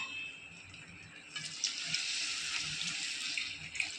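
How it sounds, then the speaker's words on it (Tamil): Tap water runs steadily into a pot, three and a half tumblers' worth, for cooking varagu millet upma. The close, continuous splashing gush lasts throughout, with no talk over it. "இப்போ மூன்றரை டம்ளர் தண்ணி வைக்கிறேன்"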